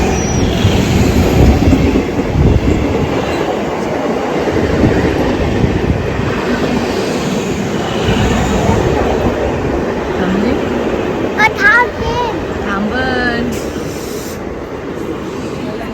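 A crowded train rumbles loudly and continuously nearby, wheels clattering on the rails with occasional high squeals as it pulls in.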